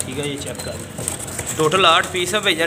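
Pigeons coo softly nearby while someone talks over them.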